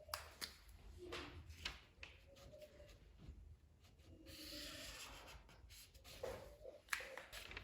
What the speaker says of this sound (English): Then I am going to draw my curve for my neck